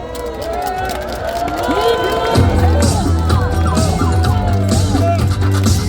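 A crowd at a political rally in Seoul cheers and shouts while awaiting a candidate's arrival, a loud, steady roar of voices joined partway through by booming rhythmic music or chanting.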